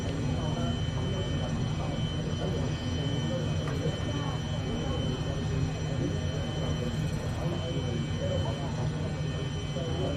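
HondaJet engines in a flight simulator game roar steadily during takeoff, a constant loud whine and rumble holding at even level for the whole stretch, with a voice talking faintly underneath.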